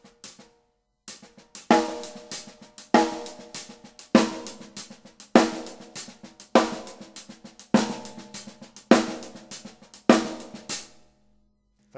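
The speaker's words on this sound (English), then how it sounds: "I play the accented note as a rim shot and then a very quiet tap stroke for a ghost note." Solo drum sticking on a kit: sharp accented rim shots land about once a second in a steady pattern, each followed by a trail of quiet ghost-note taps, close and clear with no talking.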